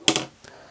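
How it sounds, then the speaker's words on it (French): Excess thread snipped off after a finishing knot while tying a fly, two quick close clicks of small scissors, then a faint trailing tick. "On coupe l'excédent."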